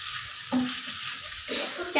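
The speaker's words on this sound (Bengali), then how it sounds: "সবজিটাকে আমি আস্তে আস্তে একদম লো হিটে এটাকে আমি কুক করবো" Vegetables cook slowly over low heat in a pan without added water, giving a soft steady sizzle with a few light stirring scrapes.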